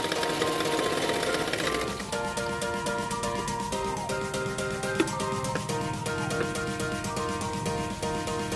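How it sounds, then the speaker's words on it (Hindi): A sewing machine stitches a hook strip onto a katori blouse with a steady, fairly close rapid rattle that carries on through the whole stretch after a short louder rustle at the start. "उसके बाद और एक सिलाई डाल दूंगी।"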